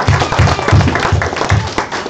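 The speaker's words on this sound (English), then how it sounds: "Give him another round of applause." A crowd claps in a loud, continuous burst of applause, with a few heavier rhythmic thumps running underneath.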